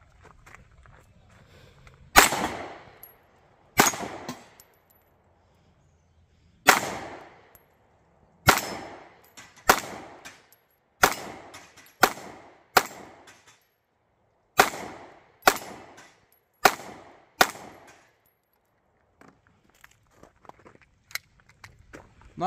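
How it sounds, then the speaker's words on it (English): Taurus GX4 9mm pistol fired at pins 15 yards away on an outdoor range, a series of about twelve sharp, loud shots at uneven intervals of one to two seconds, with quiet gaps between them and no talking. "we're going to give it a shot at 15 yards at those pins and whatnot back there"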